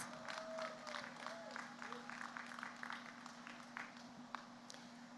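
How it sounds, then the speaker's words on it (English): Faint, scattered applause from an audience for alumni at a high school graduation ceremony, sparse individual claps over a low steady hum, with occasional voices. "Please join me in giving all of our alumni a round of applause."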